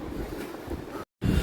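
Strong wind buffets a microphone on an apartment rooftop in Ho Chi Minh City, producing loud, rough, continuous rumbling broken by a brief silent gap near the end.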